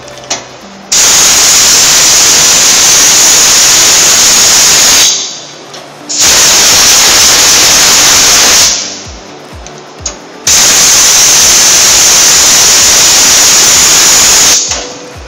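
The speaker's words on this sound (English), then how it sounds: "trigger the spray gun and the blow gun directed through the fluid passageway to expel the solution" A compressed-air spray gun and blow gun, being cleaned on an E300A, blast air in three long, loud hissing bursts of several seconds each, separated by short pauses, with no voices.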